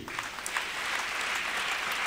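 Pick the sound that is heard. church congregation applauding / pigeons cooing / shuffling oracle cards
church congregation applauding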